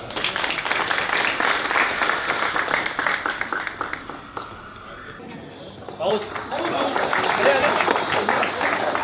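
An audience applauds at a 1995-batch school reunion gathering at a high school in Kolhapur, a broad crowd clapping that fades briefly midway, then swells again loudly while someone speaks over it.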